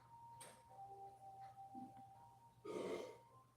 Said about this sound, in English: My husband just burped.